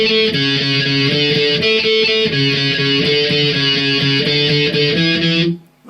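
Electric guitar alternate-picking the main riff of a song, a steady, fast run of picked notes with a bright, distorted tone, played alone at an even loudness before cutting off at the end.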